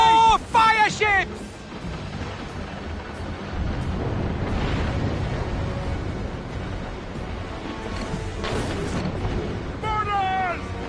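Naval battle in Assassin's Creed Rogue: ship cannons fire and shells explode in a sustained series of deep booms and rumbling blasts over wind and sea noise, with shouted voices at the start and end.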